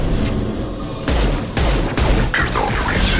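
Dense gunfire rages in the video game Mass Effect 2, loud overlapping bursts of rapid shots and booming blasts layered into a continuous chaotic barrage with no pause.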